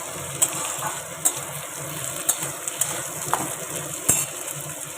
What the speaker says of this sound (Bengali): একটু ভাজা ভাজা একটু ফোড়ন দিয়ে আর টমেটো দিয়ে